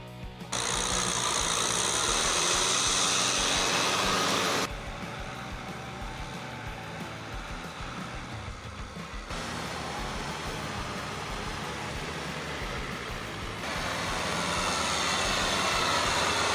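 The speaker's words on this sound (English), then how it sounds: "Kubota tractors plow 15 centimeters deep, breaking up compact layers" A Kubota tractor plows a rice field in Taiwan, breaking up compacted soil. Its engine holds a steady, broadband drone throughout, with the level shifting slightly between sections.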